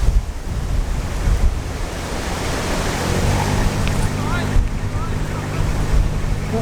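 Strong 30-mile-an-hour wind buffets the microphone with loud gusting rumble, mixed with surf and water sounds nearby on a canal.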